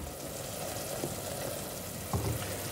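White asparagus fries in olive oil in a pan, giving a dense, steady sizzle with a few soft knocks of stirring near the end.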